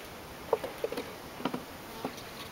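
Honey bees buzz during a 2013 hive install, with soft scattered wingbeat hums and light patters against a steady faint background hiss. No voices are heard.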